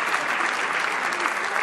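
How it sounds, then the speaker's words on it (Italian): An audience applauds at a tribute concert, a brief burst of steady, dense clapping from a large crowd. "allora siamo noi che vi facciamo gli applausi per averci seguito e per seguirci ancora"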